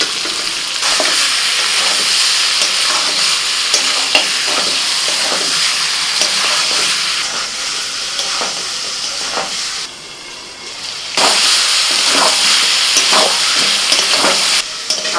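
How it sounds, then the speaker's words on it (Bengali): Fried potatoes tumble into a pot of mutton and chicken being braised, a loud continuous sizzle and hiss with repeated scraping stirs, briefly dipping before the frying roars back. "ভেজে রাখা আলুগুলো দিয়ে দিচ্ছি"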